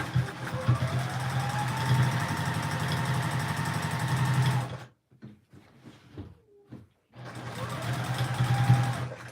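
Juki sewing machine stitching during free-motion quilting, a steady close mechanical whir and rapid needle chatter that stops mid-clip amid soft handling noises, then starts running again.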